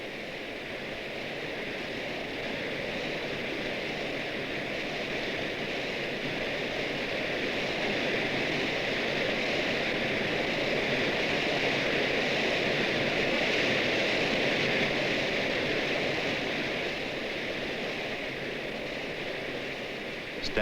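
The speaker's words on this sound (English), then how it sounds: "The great waterfall of Nachi, itself a kami of overwhelming significance in the local cult, is shown much as it would appear to the eyes of a pilgrim visiting the site." The great Nachi waterfall in Japan gives a steady, dense rushing roar, a constant wash of falling water that swells slightly midway and never breaks.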